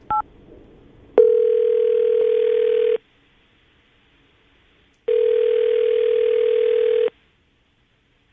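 A telephone call is placed and the line rings back: a short beep, then two long, steady buzzing tones of about two seconds each, separated by silence.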